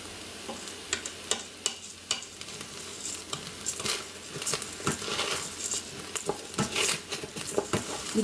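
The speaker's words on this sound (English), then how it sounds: "Once you hear that sizzling, you know the pot's getting hotter." Basmati rice sizzling in oil in an Instant Pot while being stirred, a steady crackling fry broken by repeated scraping and tapping strokes of the spoon, close and lively throughout.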